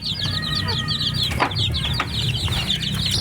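Two mother hens cluck close by, a busy run of rapid, repeated clucks that continues without a break, with a sharp rustle or peck sound partway through.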